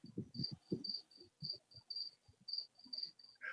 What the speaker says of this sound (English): you know he's back when you hear the crickets